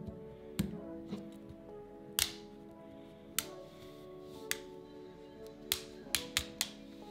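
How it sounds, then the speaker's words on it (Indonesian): A plastic pry tool working open the frame of a Realme 9 phone, giving sharp, scattered clicks and snaps as the clips release, irregular and close, against a faint steady hum. "Kemudian kita buka frame-nya pakai alat congkel plastik seperti ini."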